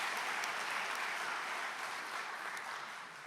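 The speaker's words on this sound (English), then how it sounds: "give yourselves a round of applause" Graduates at a medical college graduation ceremony applaud themselves, a faint, even wash of many hands clapping at a distance that thins slightly toward the end.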